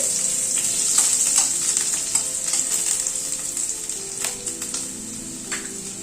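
Boiled potatoes frying in oil, a loud, steady close hiss with light stirring scrapes and small clicks throughout, no talking.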